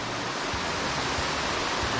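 Water pours down the multi-tiered Krating Waterfall in Chanthaburi, Thailand, a dense, constant rushing hiss that fills the short clip with no voices.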